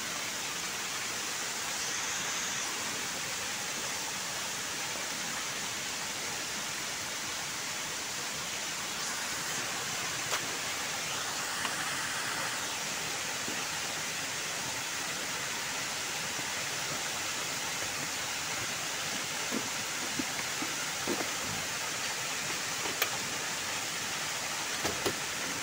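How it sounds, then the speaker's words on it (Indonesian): Coban Putri, a twin waterfall pouring onto a rock base near swimming pools in Malang, East Java, gives a steady, even roar of falling water that holds unbroken throughout with no voices. "air curugnya ini Coban Putri ini kembar ya, dengan lantai dasarnya batuan ya"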